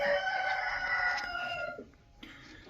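A Jersey Giant rooster on a spring farm crows once, loud and close, in a long drawn-out call that trails off, with a brief faint cluck afterward.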